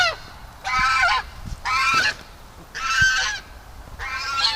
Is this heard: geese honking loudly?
yes